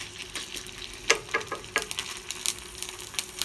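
Minced garlic cooking in a pan for shakshuka, a soft sizzle with light scattered ticks and clicks, fairly quiet and without talk.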